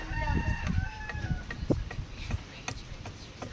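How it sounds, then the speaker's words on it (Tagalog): Several gamecocks (fighting roosters) crow and cluck nearby against a noisy outdoor background, with calls overlapping in quick succession. "ganda daming mga manok panabong dito nakapalibot yan"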